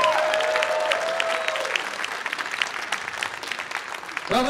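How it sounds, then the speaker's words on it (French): An audience at a comedy show applauds a performer, with a burst of dense clapping from a crowd that fades toward the end, a voice briefly sounding over it. "C'était Gabriel Bourrel, on l'applaudit."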